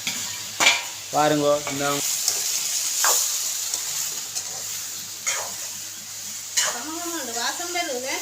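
Eggplant and onion sautéing in a pan, a soft sizzle with scraping stirs and occasional clinks of the utensil, while someone talks over the cooking.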